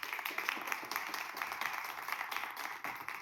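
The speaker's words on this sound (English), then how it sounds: "Give a clap for the mentor." An audience claps for a mentor at a motivational talk, a dense, steady patter of many hands continuing throughout with no voice over it.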